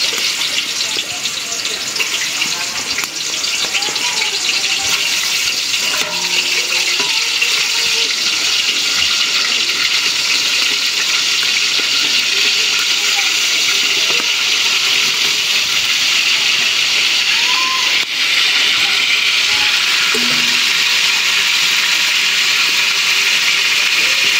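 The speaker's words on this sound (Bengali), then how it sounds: "ভাজার জন্য মাংসগুলো তেলে ছেড়ে দেবো" Chicken pieces fry in hot oil for biryani, a steady loud hiss of bubbling oil filling the whole stretch, with brief quiet talk.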